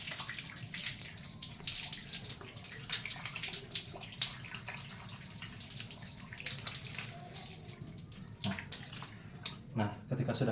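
Running tap water splashes continuously as hands are washed with soap, a close, steady hiss with shifting splashes and a few louder bursts near the end.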